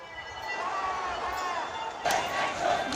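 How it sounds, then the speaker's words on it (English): Crowd of Bangladeshi protesters filling a street in Dhaka, a dense, steady roar of many voices with chanting or shouting that swells louder near the end. "Crowds of Bangladeshi demonstrators once again took to the streets here in Dhaka on Sunday"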